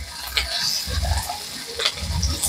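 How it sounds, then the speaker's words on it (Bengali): Chopped onion and green chilli fry in hot oil for a cauliflower roast, a steady close sizzle with a few stirring scrapes and clicks, no voices. "পেঁয়াজ লঙ্কাটা ভালোভাবে ভেজে নেবো।"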